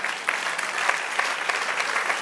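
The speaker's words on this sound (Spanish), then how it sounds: "Denle un aplauso, Señor." A church congregation claps together in steady, dense applause with scattered louder claps, filling the space at a fairly even level throughout.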